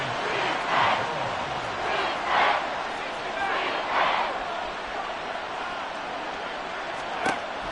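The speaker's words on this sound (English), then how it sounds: "This crowd turning up the decibel level" Stadium crowd at an American football game roaring in waves after a sack on third and long, loud broad swells of cheering and yelling that rise and fall, with a sharp bang near the end.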